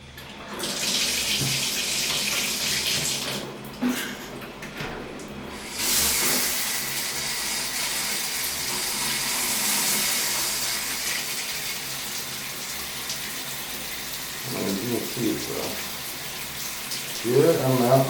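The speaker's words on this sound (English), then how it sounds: "Good amount of water with a decent pressure. It's a good shower." Shower spray pouring steadily onto an enclosure during an ingress protection water test, a continuous loud hiss and splash of water lasting throughout, with slight changes in flow and a few knocks near the end.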